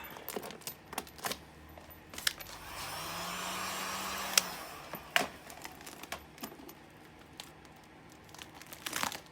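Heat gun warming vinyl wrap film on a car antenna fin, a steady blowing whoosh swelling for a couple of seconds in the middle, surrounded by soft crinkling of the film and scattered small clicks and taps.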